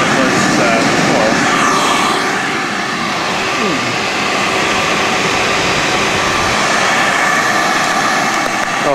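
An Ametek blower on a Lakewood fan runs at full speed, a loud, steady rushing whine and roar of moving air that stays constant throughout, with a voice briefly talking over it.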